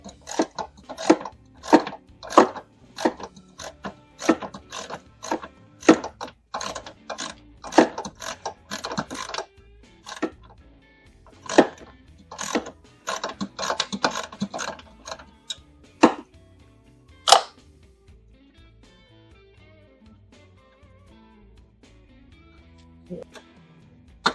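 A ratchet wrench loosens bolts during a car alternator change, giving close, crisp clicking in rapid bursts. The bursts come in runs with short pauses, then thin out into a few scattered clicks toward the end.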